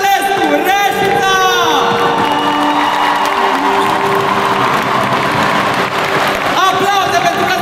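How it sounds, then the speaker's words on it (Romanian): Loud applause and cheering greet student performers at a high school ball, with whoops and an amplified voice rising over the dense crowd noise. "Aplauze pentru răzbunătorii noștri!"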